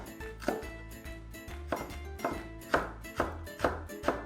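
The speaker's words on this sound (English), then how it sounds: "we'll start with just finely chop our shallot" Shallot being finely chopped with a knife on a board, a run of quick, regular, close knocks with short pauses between strokes, fairly quiet and with no talking.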